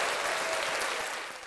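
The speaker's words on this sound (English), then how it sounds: "Let's give a round of applause, DJ Ali." Steady applause from a live audience, loud and sustained for the whole stretch, thinning slightly toward the end.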